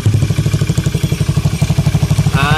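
Honda Beat scooter engine with a CVT gearbox, freshly repaired and fitted with a PWK 28 carburetor, idling loudly and close in a fast, even pulsing chug with no talk over it.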